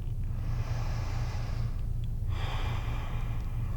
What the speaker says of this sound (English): One more big full breath here.